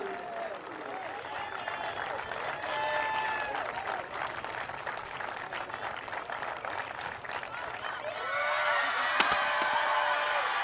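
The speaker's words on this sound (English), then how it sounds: "let's have a round of applause for the 2023 National Champions, the Middlebury Panthers." Crowd applause and cheering for the Middlebury Panthers, 2023 NCAA Division III field hockey national champions, a steady clapping wash mixed with shouts, whoops and horn-like honks that swells louder near the end, with voices throughout.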